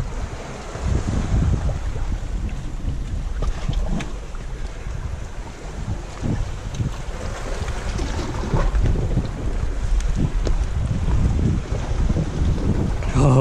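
Strong wind blows steadily outdoors on a shady spot along a rock traverse, buffeting the microphone with a continuous loud rumble and whoosh.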